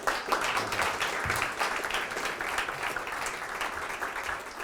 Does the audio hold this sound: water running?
no